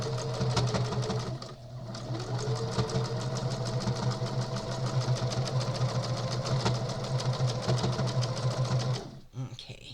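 A sewing machine top-stitching a quilted clutch makes a rapid, even mechanical whirr with a low motor hum. It runs steadily for several seconds, then stops abruptly.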